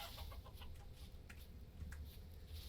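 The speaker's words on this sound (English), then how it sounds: "It's a chicken." Chickens clucking inside the video game Vintage Story, soft and somewhat distant, with a few short broken calls over a steady low background hum.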